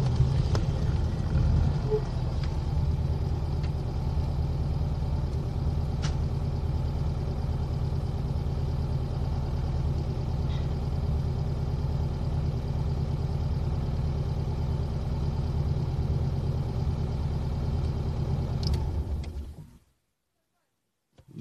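A ZAZ-965 car engine running on a drive over a rough road, a steady close low rumbling drone lasting about twenty seconds before cutting to silence, with occasional faint voices.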